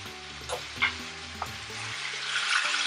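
Beef liver and potatoes sizzling in a frying pan while being stirred, a steady close crackle with a few scraping bumps from the stirring and no talk.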